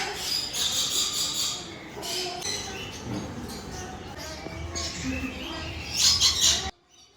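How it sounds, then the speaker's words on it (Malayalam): Many kinds of birds chirp, tweet and squawk around a village in Kerala, a mix of near and distant calls in bursts over quiet background, fairly faint overall, ending abruptly. "പലതരത്തിലുള്ള പല കളറായിട്ടുള്ള ഒരുപാട് ബേഡ്സും കിളികളും ഒക്കെ ഉണ്ട്."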